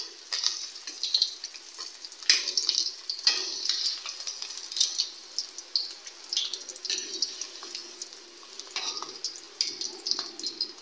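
Eggs sizzle and crackle in a hot pan as they brown, a busy hiss with scattered sharp pops and occasional clinks of a utensil, close and steady with no talking.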